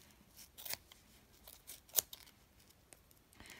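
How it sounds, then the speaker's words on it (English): Scissors snipping through yarn around a pom-pom maker for a crocheted mini beanie ornament, a few quiet close crisp cuts spread out, one sharper snip in the middle, no talking. "you get your scissors in there, and you have to cut all the way around"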